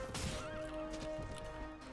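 A horse whinnies in the Mount and Blade: Warband game, Prophesy of Pendor mod, during a battle. One short rising neigh sits over faint clattering and battle noise.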